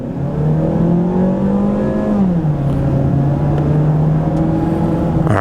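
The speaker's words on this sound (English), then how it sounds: "acceleration was pretty good. Not bad for a non-turbo vehicle." A non-turbo front-wheel-drive car, a Mazda3 Sport or VW Jetta S, accelerating steadily, its engine drone rising in pitch, dipping briefly at a gear change, then climbing again, loud and close.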